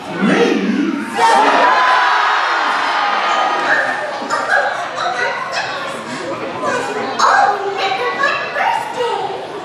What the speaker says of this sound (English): When I count to three, we'll all jump up and yell, "Surprise!"